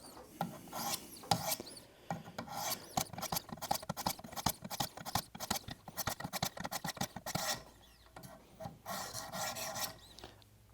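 A Schrade PH1 hunting knife is drawn across a 600 grit sharpening stone in repeated scraping strokes, a close, steady rasping rhythm with brief pauses between passes.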